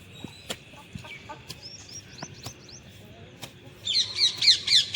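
Chickens and chicks cluck and chirp in repeated short calls, with a louder, busier burst of clucking near the end over faint background noise.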